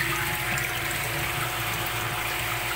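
Water rushing steadily through a water softener while its resin is rinsed during backwash, a loud, continuous, close hiss with a low pump-like hum underneath and no break.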